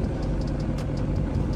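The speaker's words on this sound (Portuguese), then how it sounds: "Acelerando aqui." Car engine during a road trip in a storm, a steady moderate motor hum with faint periodic ticks, no talking over it.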